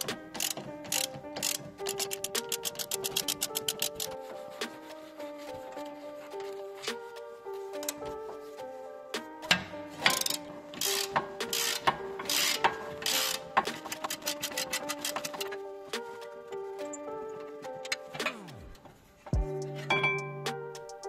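A 16 mm ratchet wrench clicks in rapid bursts of pawl ticks while loosening the rear brake caliper bolts on a BMW 1 Series E87, close and fairly quiet, with brief pauses between bursts and no talk.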